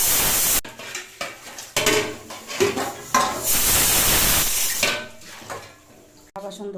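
Pots, pans and dishes clatter and knock while being washed in a home kitchen, with irregular clanks and scrapes and bursts of running water throughout.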